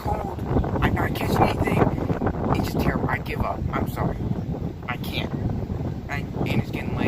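Heavy, gusty wind buffets the microphone outdoors while fishing, producing loud uneven rumbling bursts that come and go throughout.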